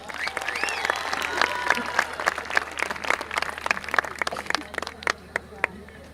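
Festival audience applauds a bass player at an outdoor concert: scattered, uneven clapping with sharp individual claps, moderately loud and thinning toward the end, with some crowd murmur underneath.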